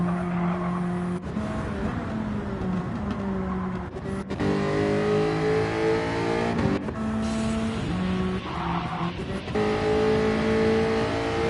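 Gr.4 race car engines in Gran Turismo 7 during an online series race, loud sustained engine tones rising and falling through gear changes, with cars revving, shifting and passing close by for the whole stretch, no talk.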